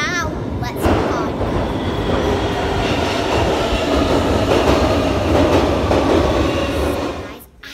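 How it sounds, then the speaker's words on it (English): A London Underground tube train arrives at the station with a loud, close roar of wheels and rails, rumbling and clattering steadily before easing off at the end. "I'm right now in London in the underground tube station waiting to hit the tube"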